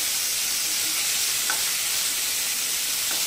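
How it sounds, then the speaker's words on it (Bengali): Coral fish pieces fry in a pan with a steady, even sizzle and a couple of faint clinks, no voices. "এক পাশ আমি মধ্যে দিচ্ছি মাছগুলো, একটু লাল করে ভেজে নেবো"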